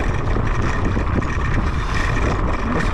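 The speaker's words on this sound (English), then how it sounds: "Well, it's windy over this side." Heavy, continuous wind roar buffets the microphone while riding a Kaabo Wolf Warrior GT electric scooter on a bumpy, exposed stretch, loud and unbroken with no talk.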